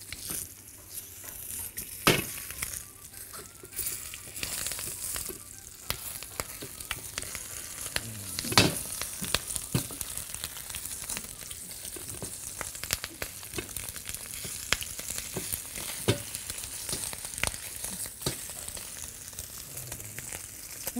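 A meat shank (mouza) frying in a pan as it is turned over, a dense continuous sizzle and spatter with scattered sharp crackles and pops, close and alone without talk.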